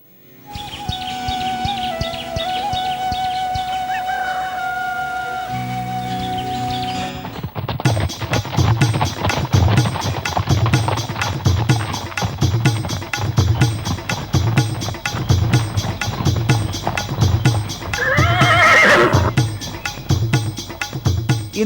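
Cartoon horses trot with a steady clip-clop rhythm over a music bed, with birdsong and insect chirps around them in the Akbar and Birbal story; no distinct neigh stands out.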